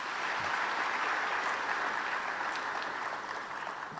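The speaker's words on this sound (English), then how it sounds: "Another round of applause for him," An audience at a public lecture claps for a poem reciter, a dense, steady wash of applause from many hands that holds for several seconds and then thins slightly toward the end.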